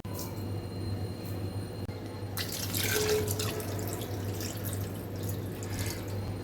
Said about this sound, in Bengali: জলটা ইচ্ছে করে বেশি দিলাম এই স্টকটাতেই আমি নুডলসটা আজকে সেদ্ধ করব